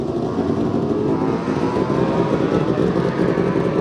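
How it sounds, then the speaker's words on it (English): A Norton rotary Wankel-engined racing motorcycle on the TT course, a loud continuous buzzing engine drone held steady and close for a few seconds. "Steve Hislop rode a rotary engine Norton, a Wankel Norton"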